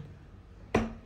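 A knife chops through anchovy fish on a board with one sharp, close thud, followed moments later by the start of a second cut, against a quiet background.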